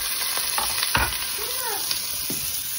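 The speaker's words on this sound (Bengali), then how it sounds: "আমি আবার গরমটা করছি বেশি, যাতে সাথে সাথে পেঁয়াজটা দিয়ে দিতে পারি" Sliced onion hits a very hot pot and fries with a sustained sizzle, broken by several sharp stirring scrapes and clatters close by, with no talking.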